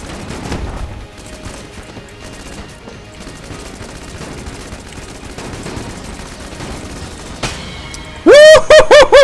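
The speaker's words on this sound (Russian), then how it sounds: "взрывной бластер, это просто невероятная шняга" An explosive blaster fires in a video game, with dense bursts of gunfire and blasts through the clip and loud rapid synthetic shots at the end.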